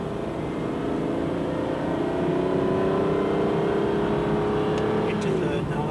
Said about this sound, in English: Accelerate a bit more and go up to third.